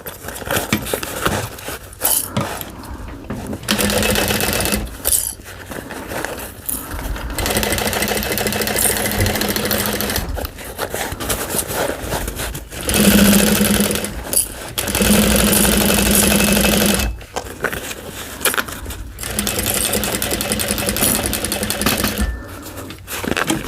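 A sewing machine stitches a Howie Bowler Bag in repeated short runs broken by brief pauses, close and steady, with the motor's whir rising and stopping again and again.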